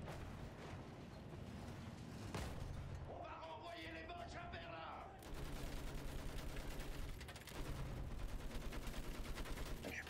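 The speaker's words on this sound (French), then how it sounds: "Là, je suis passé en mode mitrailleuse." Rapid bursts of machine gun fire in the World War I shooter Battlefield 1, loud and continuous with explosions and battle noise throughout, occasional lulls before the firing resumes.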